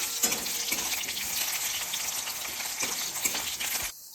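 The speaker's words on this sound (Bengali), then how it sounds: "আলুটাকে ভেজে নিতে হবে" Salted potato pieces frying in a pan until soft and reddish, a continuous bright sizzle with intermittent stirring scrapes, cutting off abruptly just before the end.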